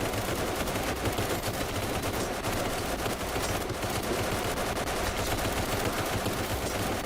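Sustained rapid gunfire sprays from an automatic weapon in the video game Kinki Spiritual Affairs Bureau, a dense, loud, continuous hail of shots running steadily throughout with no talking.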